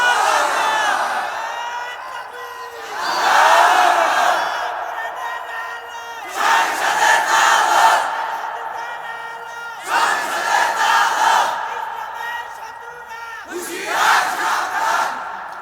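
A crowd at a Ramadan sermon (waz) in Rangpur shouts takbir in unison, four loud collective bursts of voices separated by brief quieter gaps, rising and falling in a steady call-and-response rhythm.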